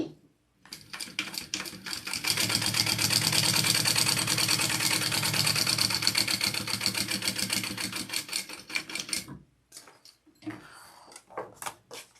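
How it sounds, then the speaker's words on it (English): A sewing machine runs steadily at high speed while top stitching a Cupid Crossbody bag, a close, dense rattling hum lasting several seconds before stopping, followed by a few brief stitches and handling clicks. "All right, I'm going to top stitch that on."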